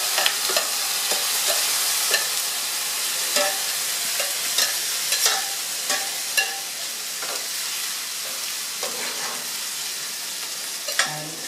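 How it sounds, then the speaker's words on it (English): Spinach leaves going into browning onions in a pan for palak tofu, giving a steady close sizzle with repeated scraping stirs and short clattering knocks throughout, no talking. "We're going to add all the spinach in there."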